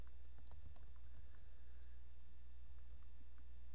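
Quick, light keystrokes tap on a computer keyboard in a quiet room as a name is typed into a form field in MS Word, the clicks arriving in small irregular bursts over a low steady hum.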